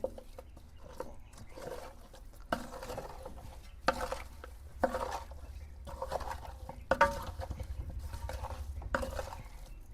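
Chicken pieces being stirred with masala and oil in a pot for chicken biryani, with steady scraping and soft clattering strokes that repeat at an uneven rhythm over a low background hum.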